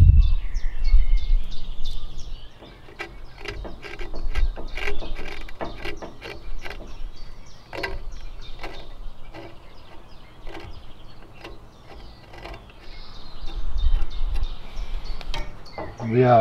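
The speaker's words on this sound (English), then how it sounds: "And then we're gonna remove the old rest material from this bow." Old glue and rest material being scraped off a traditional archery bow, heard as repeated short scraping strokes and clicks at close range, with faint bird calls in the background and no talking.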